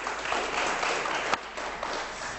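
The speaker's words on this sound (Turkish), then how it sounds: "Eller ağrıdı vallahi alkışlamaktan" A quiz show studio audience applauds steadily, a dense wash of clapping that holds at an even level for a couple of seconds with one sharper clap standing out.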